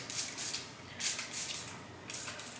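Rosemary water sprayed onto hair from a spray bottle, three or four short soft hissing bursts spaced about a second apart, quiet and close.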